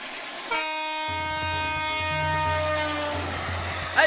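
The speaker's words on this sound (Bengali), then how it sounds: "ট্রেন আসছে তো রে" A train on a railway line approaches, its horn blaring in long sustained tones over a low rumbling engine and wheels, loud and close, with a brief clatter at the very end.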